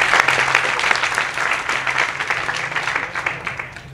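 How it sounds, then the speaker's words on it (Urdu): An audience at an offset printing workshop applauds steadily for several seconds, a dense wash of claps from a roomful of people with no talking. "سر کے لیے تالیاں یار کریے."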